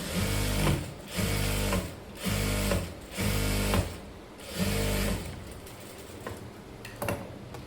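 A sewing machine stitches a padded blouse in repeated short bursts of motor whirring and needle clatter, separated by brief pauses, with no talking.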